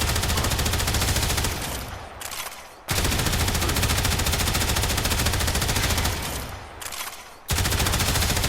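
An auto rifle in the game Warframe fires in long, dense full-auto bursts, loud and close, with two short pauses between streams.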